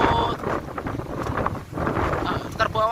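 Strong wind at sea buffeting a ship off Taiwan, roaring steadily across the microphone with gusty rushes and splashing water, a voice speaking over it.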